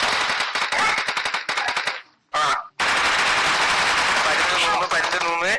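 Rapid automatic gunfire in the mobile battle royale game BGMI: loud, dense bursts of shots with a brief pause, then sustained firing again, with a voice briefly audible near the end.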